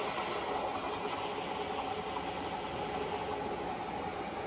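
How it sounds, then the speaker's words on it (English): A WMW-Heckert FSS 315/2 PS vertical milling machine spindle runs at 710 RPM, giving off a steady, even mechanical hum and whir that holds without change throughout, with no talking. "The spindle speed has been increased to 710 RPM."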